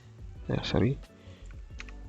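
Fingers type on a computer keyboard while coding a Telegram bot in Node.js, a short run of light, irregular clicks with a brief voice sounding partway through.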